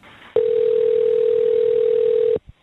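A recorded phone call carries a loud, steady telephone ringing tone that holds one pitch for about two seconds and then cuts off, followed by a brief click.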